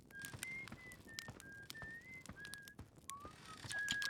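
A character in the Outer Wilds video game whistles a steady tune of short clear notes, moderately near, over soft rustling and faint clicks.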